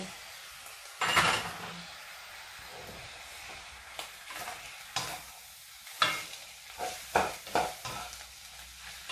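Cooked white rice being stir-fried in a pan: a soft sizzle underneath with repeated spatula scrapes and clanks against the pan at an uneven rhythm, close by, with no talk.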